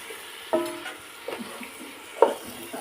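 Chicken is being sautéed with cardamom, cinnamon and cloves in a pan. A few sharp spoon scrapes and clinks ring out over a low, soft sizzle, at a quiet, close level.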